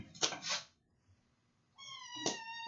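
A kitten meows twice, close and clear, with a quiet pause between the short first call and the longer, higher second one.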